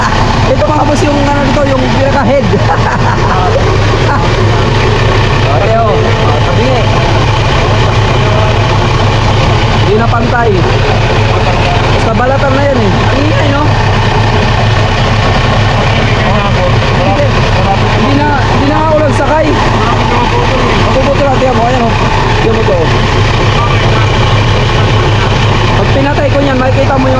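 Vehicle engine idling with a misaligned, uneven fan belt that rattles and catches, a loud steady drone throughout with a people talking over it.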